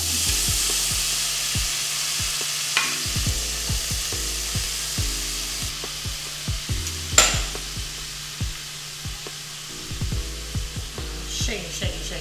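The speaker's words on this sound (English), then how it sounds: "I'm gonna add in our onions now, and we're just going to cook them in." Onions frying in rendered fat from fatty pieces in a pan, with a continuous sizzle broken by repeated sharp scrapes and clacks of a utensil stirring them, loud and close.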